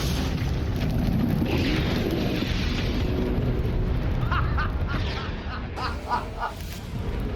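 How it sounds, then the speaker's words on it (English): A gas-air mixture detonates inside a building in a staged explosion test, a sustained roaring boom that rumbles for several seconds and then fades, with excited voices in the background. "Ideal gas-air mixture, Bourne explosion in 3, 2, 1"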